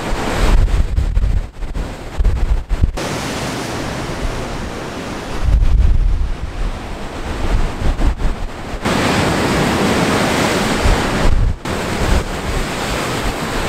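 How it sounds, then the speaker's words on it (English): Sea waves crash onto rocks below cliffs in a Pembrokeshire cove, loud surging bursts with heavy wind buffeting the microphone throughout. "hearing the waves crash onto the rocks below"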